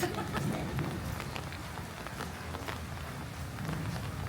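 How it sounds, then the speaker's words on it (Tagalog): Rain falling in Bicol, Philippines, as a steady, fairly faint patter and hiss with scattered drip ticks and no talking. "Bakit naman umuulan dito sa Bicol?"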